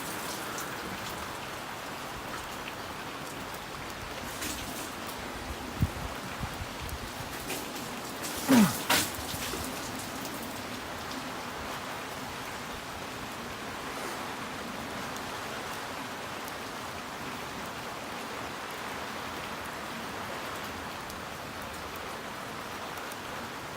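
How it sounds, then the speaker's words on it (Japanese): Heavy guerrilla downpour drums steadily on a tarp stretched over a rainy campfire camp, a dense, even hiss with a few louder thumps and knocks near the middle. "ゲリラ豪雨に勝負を挑む"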